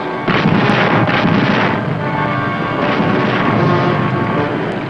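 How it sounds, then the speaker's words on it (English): Submarine deck guns firing on a freighter, a dense continuous roar of loud rumbling gunfire and blasts throughout, with no speech. "the Wahoo attacked another freighter with her deck guns"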